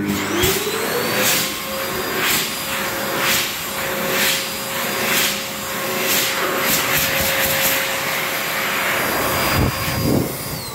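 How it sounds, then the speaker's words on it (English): A steady, loud blowing roar of a hand dryer runs throughout in a Sainsbury's restroom, with faint clicks and thumps over it. "Rolls dryer"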